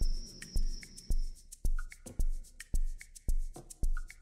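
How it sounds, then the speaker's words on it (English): Frogs calling at night in Tai Tam Country Park, Hong Kong: a steady run of sharp, evenly spaced clicking pulses about twice a second, close and clear, with faint high insect-like chirps and trills between them and no talking. "That's why the frogs are active and make more sound."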